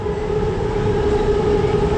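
A Bangkok metro train passes close by with a steady, loud rumble and a sustained tonal whine that holds throughout, with no talk over it.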